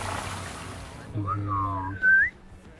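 A person in autumn Patagonia whistles toward animals: a few short rising and falling whistled notes, close and clear, ending in a sharper upward whistle after a brief pause.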